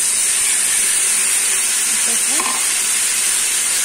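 Tamarind juice hitting a hot frying pan while making tamarind pulihora, a loud, dense, continuous sizzle and hiss close up, with a voice speaking briefly over it.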